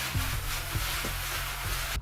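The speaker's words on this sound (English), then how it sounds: "use sandpaper to smooth down any severe bumps in the wall" Steady scratchy rubbing of sandpaper against a wall surface, smoothing bumps, close up, with a few soft knocks in a back-and-forth rhythm.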